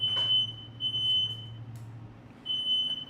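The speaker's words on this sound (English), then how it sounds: "It's the first time I've ever set the smoke detector off in here." Indoor smoke detector set off by a smoky kitchen while cheese fondue cooks, sounding shrill piercing beeps in three bursts separated by short gaps, close and loud over a low background hum, no speech.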